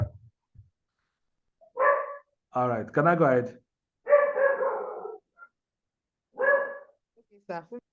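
A dog barks several times in short, separated bursts at moderate distance, with a person speaking briefly between the barks.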